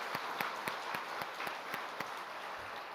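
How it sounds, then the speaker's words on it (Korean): A church congregation applauds after worship, faint steady clapping from a distant crowd with a regular rhythmic beat throughout. "수고하신 분들을 위해서 박수 한번 합시다."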